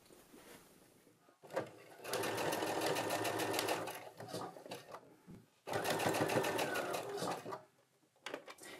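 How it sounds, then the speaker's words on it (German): A sewing machine stitches down the pleats on a homemade fabric face mask in two long, steady, close runs of rapid needle chatter, with brief pauses and handling between them. "jetzt werde ich hier und hier nähen, um diese Falten zu fixieren."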